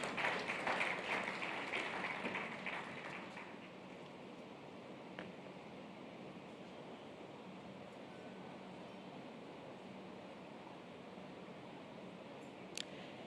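Audience applause at a conference panel session, a burst of clapping in the first few seconds that quickly fades into quiet room tone.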